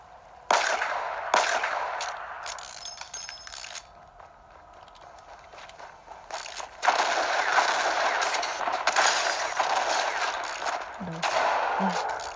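Video game gunfire in bursts, loud and fairly close, with stretches of sustained shooting and brief pauses; a voice talks over part of it.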